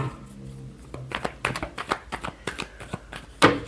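Tarot cards are shuffled close by in a run of quick, crisp riffles and taps, irregular bursts ending in a sharper snap of the deck.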